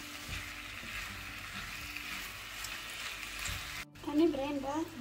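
Ground veal fries in a pan with other ingredients, a soft continuous sizzle under a voice briefly speaking, then a short louder clatter of stirring near the end.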